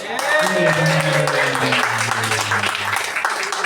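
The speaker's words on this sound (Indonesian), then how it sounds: "kita tepuk tangan dulu" A small group clapping hands during an Indonesian home cooking session, a dense burst of claps that stays loud, then tapers slightly, with voices and some tonal sounds mixed in.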